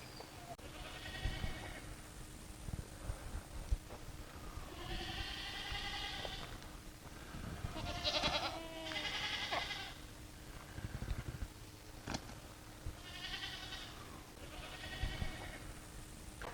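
Kiko goats bleating inside a barn, several loud drawn-out calls from different animals spread across the stretch, overlapping with shuffling, clatter and a steady background hum.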